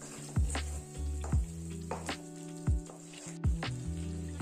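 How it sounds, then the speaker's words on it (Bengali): Ginger, green chilli and garlic paste sautéing in a pan for a Mughlai chicken curry, a steady soft sizzle broken by repeated scraping strokes of a spoon roughly every second, close and moderately loud with no talking. "আদা আর কাঁচা লঙ্কা বাটা, আর দিয়ে দেব রসুন বাটা। মশলাটাকে ভালো করে কষিয়ে নেব।"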